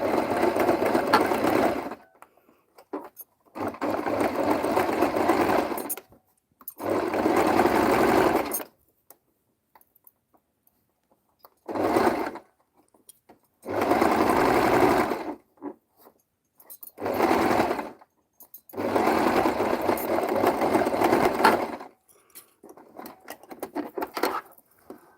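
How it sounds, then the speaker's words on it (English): A sewing machine runs a reverse stitch to lock the seam ends while upcycling fabric, heard as a series of steady, close mechanical stitching bursts of a few seconds each, split by quiet pauses. "when you start again, we're going to reverse stitch just to secure the ends."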